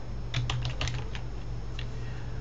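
Rapid typing on a computer keyboard while entering a search for a browser extension, a quick run of close, crisp key clicks followed by a few isolated keystrokes over a steady low hum.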